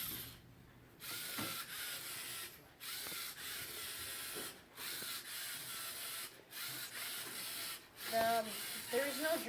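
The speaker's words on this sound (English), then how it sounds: "So it makes R2D2 sounds." A LEGO EV3 robot whirs and clicks with ratcheting gear noise in short bursts. Near the end come quick warbling, beeping chirps like R2-D2, close by and moderately loud.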